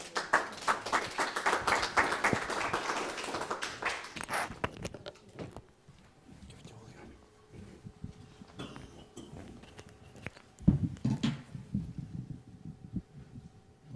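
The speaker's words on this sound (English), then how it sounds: "I think everybody's applauding." Audience at a chemistry symposium applauding, dense clapping from many hands for several seconds that fades out, followed by quieter room noise and a few scattered claps.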